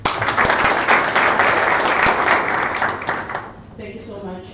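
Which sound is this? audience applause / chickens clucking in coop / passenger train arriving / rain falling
audience applause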